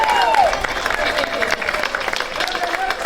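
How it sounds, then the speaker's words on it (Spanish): Crowd applause at a street parade in Benimàmet, a broad wash of clapping filling the scene for about three seconds, with voices and crowd noise mixed in underneath. "Fuerte aplauso, claro que sí."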